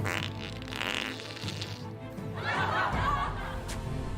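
During a Dota 2 esports broadcast, a fart sound effect plays, a short raspy burst followed by chuckling and snickering laughter from the casters.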